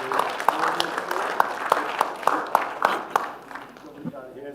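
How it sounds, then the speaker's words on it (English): An audience at an afternoon conference session claps together, scattered hand claps forming a moderate wash of applause that rises and then tapers off toward the end. "big round of applause for the"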